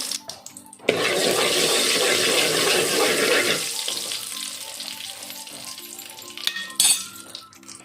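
A quarter spoon of asafoetida and half a spoon of mustard seeds drop into four spoons of hot oil for a Goan dish, bursting into a loud hissing sizzle that gradually softens and settles over several seconds.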